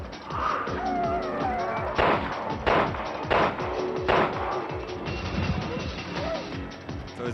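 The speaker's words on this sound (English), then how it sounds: "I got the shotguns better on short range" Shotgun blasts in Resident Evil Revelations 2 gameplay, four sharp, evenly spaced booms over a busy mix of game noise, with voices talking throughout.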